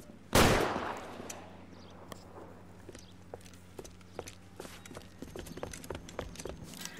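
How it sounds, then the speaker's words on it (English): A single loud gunshot blasts out early in a shootout at a tin shack in the 1940s Los Angeles crime game LA Noire, then sharp scattered shots and impacts crack sporadically over a steady low hum, with no talking. "Just quit shooting."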